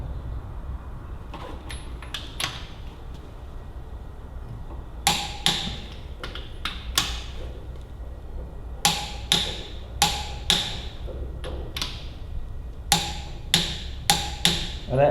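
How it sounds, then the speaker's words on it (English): A torque wrench tightens small bolts on a Ferguson TEA20 tractor in bursts of sharp ratchet clicks, separated by short pauses, with a low hum underneath. "So I've set my torquing wrench and we'll just whiz these little fellows up."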